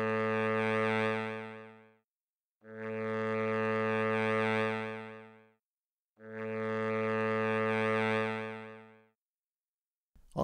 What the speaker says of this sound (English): we have 1 second of attack, which means that the sound is going to grow from silence to full volume over the course of a second.